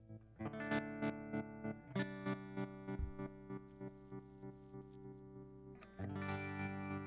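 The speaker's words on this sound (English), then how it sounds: "So let's see what the tremolo does." Electric guitar played through a surf-style pedal's tremolo effect, chords pulsing in a steady rhythmic on-off throb with long sustained notes, close and clean, with a fresh strum near the end.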